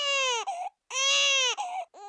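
A cartoon baby cries in loud, wailing bursts, two long sobbing cries with a short gap and a shorter whimpering start at the end, heard alone without talk.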